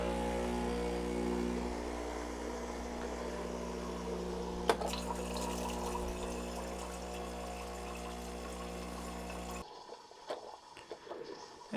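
A URintells espresso machine with built-in grinder runs its pump to dispense hot water for cleaning, a steady humming buzz with trickling liquid that cuts off abruptly near the end, leaving faint clicks.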